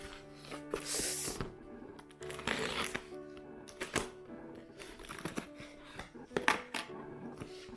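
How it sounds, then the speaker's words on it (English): Cardboard box holding a mixed media sketchbook being opened by hand during an unboxing, with bursts of rustling, tearing and crinkling packaging, close and fairly loud, alone without talk. "let me open this box."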